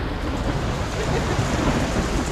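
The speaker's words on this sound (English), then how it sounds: "just heard some lightning, thunder" Steady heavy rain with rumbling thunder at a race track, a dense continuous roar filling the whole stretch without a break.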